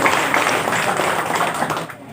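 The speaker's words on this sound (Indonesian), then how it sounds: "Tepuk tangan untuk kita." An audience applauds at a Hindu ceremony, a short burst of steady clapping from many hands that fades out toward the end.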